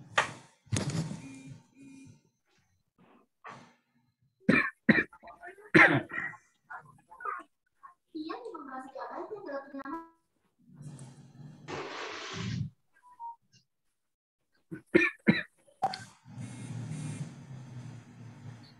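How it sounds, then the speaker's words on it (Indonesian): A few short, sharp coughs and throat clearings during an online webinar, scattered across a quiet room, with brief murmured voices and thumps between them. "Waduh, batuk-batuk itu"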